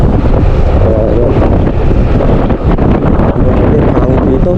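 Wind buffets a microphone outdoors in a rural village, a loud, steady, rough roar that fills the whole clip with no clear breaks.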